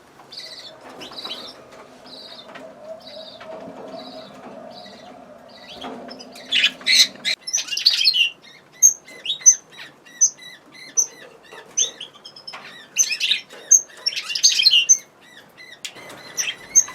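Budgerigars and their young chicks in a breeding setup chirp and squawk up close, with a repeating series of evenly spaced calls at first, then bursts of louder, busier chatter with quiet gaps.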